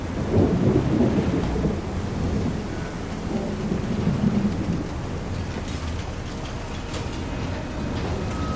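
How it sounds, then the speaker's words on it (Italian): A thunderstorm in the video game Syberia: The World Before, with a deep rolling rumble of thunder over steady rain that spatters on surfaces and continues on its own. "È arrivata la tempesta."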